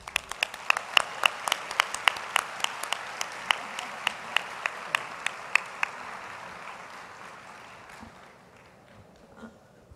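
An audience at a congress claps in a short burst of sharp, separate hand claps that thin out and fade over several seconds, welcoming a singer onto the stage.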